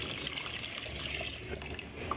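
Water is poured from a glass into a pot of mutton gravy cooking with tinde: a steady, fairly loud splashing pour that runs without a break, with no talking.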